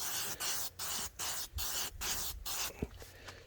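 Permethrin tick repellent sprayed from a pump spray bottle outdoors: a run of about nine short, close hissing bursts in steady rhythm, separated by brief gaps, with a soft knock near the end.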